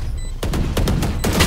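Gunfire in a competitive college shooter match, several sharp shots in quick succession after a quiet opening, loud and close with a faint hum beneath.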